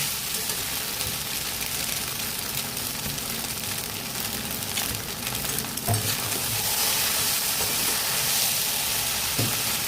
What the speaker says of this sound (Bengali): এটা কিছুক্ষণ একটু ভাজা হোক।